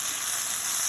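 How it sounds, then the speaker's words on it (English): Garlic sautéing in a pan gives a steady, close hiss of sizzling oil with no voices, over a brief moment. "we just saute this garlic for a little bit"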